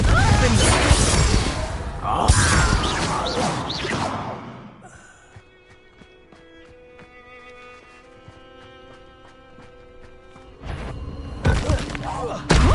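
Spell blasts in a Harry Potter video game: loud crashing, shattering bursts at the start, a quieter stretch of ringing tones, then another heavy impact near the end.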